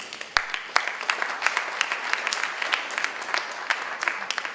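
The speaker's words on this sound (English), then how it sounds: "That may be more applause than I got in 1964." Graduation ceremony audience applauding steadily, a dense patter of many hands clapping at moderate distance, even and sustained throughout with no talk over it.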